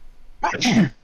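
A single sharp human sneeze bursts out close to the microphone, brief and loud against a quiet room where a podcast conversation is taking place.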